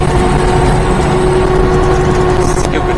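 A supercharged mini-truck engine running at part throttle, around half throttle, with a steady, loud, continuous drone and little change in pitch.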